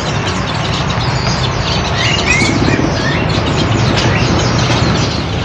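A caged cendet shrike sings in a dense, continuous wash of bird chirps and tweets, with several birds calling at once at steady, fairly loud level throughout.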